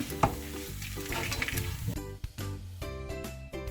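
A spatula scrapes and stirs through dry, crackly roasted grated coconut in a pan, with steady scratching strokes close up and no voices.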